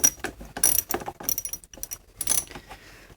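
A ratchet wrench clicks in quick bursts of pawl ticks while a 5/16 nut on a car battery's negative terminal is loosened, close and fairly quiet, with brief pauses between strokes.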